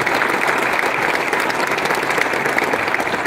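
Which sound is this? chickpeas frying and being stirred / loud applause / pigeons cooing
loud applause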